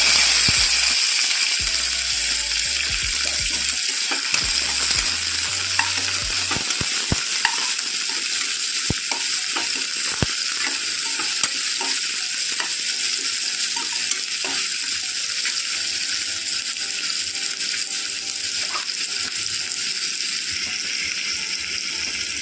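Curry leaves and onion sizzle steadily in hot oil in a pan, a constant bright frying hiss with occasional spoon stirs and scrapes, close and alone without talk.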